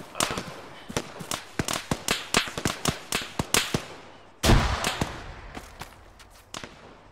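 Combat in Arma 3: a rapid string of sharp gunfire cracks, then a single loud, deep grenade blast about midway whose rumble fades over a couple of seconds before a few more scattered shots; no talk.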